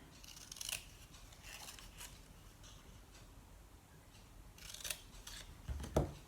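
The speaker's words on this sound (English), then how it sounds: "And I forgot to cut up the tabs." Scissors snipping the tabs of a paper Halloween lollipop treat box, a few quiet crisp cuts spaced apart, then a louder rustle of handled paper at the end.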